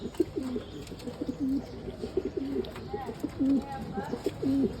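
A pair of Lahori pigeons cooing close by, repeated rolling coos in a steady rhythm while someone talks over them.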